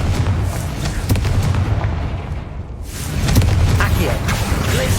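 Spell explosion in the game Hogwarts Legacy, a dense booming burst with crackling debris over a steady background of game noise, swelling again toward the end.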